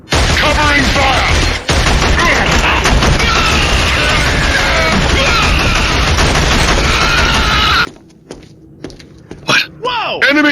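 A dense, continuous barrage of rifle and machine-gun fire with booming impacts in a Killzone battle, loud and unbroken for several seconds before cutting to near quiet with a few scattered sharp noises.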